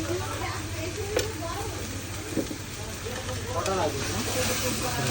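A spice mix with cumin paste, salt and turmeric fries in a pan, giving a steady sizzle and hiss with occasional scraping stirs and a couple of sharp clinks, while someone talks over it.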